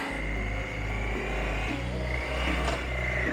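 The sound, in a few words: motorcycle engine revving after a missed gear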